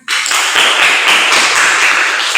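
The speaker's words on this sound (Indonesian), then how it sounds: "Kita beri tepuk tangan." A classroom full of students applauds the group that has just presented, a loud, dense burst of clapping that starts abruptly and holds steady throughout.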